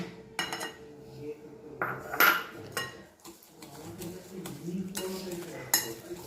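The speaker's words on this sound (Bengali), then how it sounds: "আমি কিন্তু কন্টিনিউ এটা বিট করতে থাকবো বেশ কিছুক্ষণ হ্যান্ড হুইস্কের সাহায্যে" A hand whisk beats eggless plum cake batter in a bowl, giving uneven rhythmic clinks and scrapes of metal against the bowl, close and moderately quiet, with a few sharper knocks.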